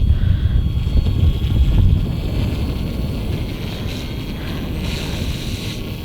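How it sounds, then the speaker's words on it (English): Gusty wind of roughly 8 to 10 mph blowing outdoors at a field where a brushless RC helicopter is flown, a steady low rumble buffeting the microphone, strongest early and easing slightly. "We got some wind."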